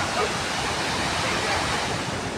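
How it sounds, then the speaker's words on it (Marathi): Heavy water flow at Sahastrakund waterfall in Nanded, heard as a dense, steady roar of falling water that fills the whole short stretch without a break. "तर पाणीचा आवाज तर किती जोरानं येत आहे, ऐकलं असेल तुम्ही."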